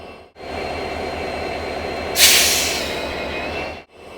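Steady rumble of an EMD diesel locomotive hauling the Palakkad Town–Trichy Express, with rolling wagon noise and a sudden sharp hiss of air release midway, heard from inside the moving train.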